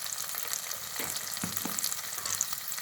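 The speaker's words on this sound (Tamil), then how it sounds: "அது நல்லா எண்ணெயில் வதக்கிடுச்சு" Small onions and turmeric fry in oil over medium heat for Chidambaram brinjal kosthu, a soft, even sizzle with a few light stirring scrapes, close and fairly quiet.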